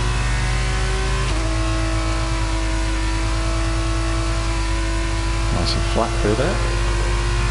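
An F1 car in the racing game F1 22 holds a steady high engine drone under throttle, with a brief shift in pitch near the start and a blip of gear changes toward the end, while someone talks over it throughout.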